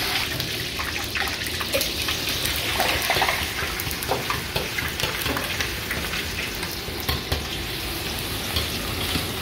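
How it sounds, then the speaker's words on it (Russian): Marinated meat hits hot oil in a pan and fries with a steady, dense sizzle and crackle throughout, fairly close and loud, with no talking. "Обжариваем мясо."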